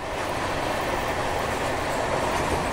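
The 12870 Howrah Express rolls at high speed, about 120–130 km/h, with a steady, loud broadband roar of wheels on rail and faint clickety-clack throughout, no voices.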